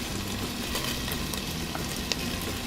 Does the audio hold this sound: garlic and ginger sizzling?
yes